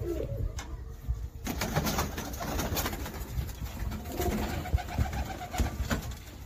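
Pigeons of a collected, all-day flying breed coo continuously at close range, a steady layered murmur of soft calls with occasional wing rustles and no talk.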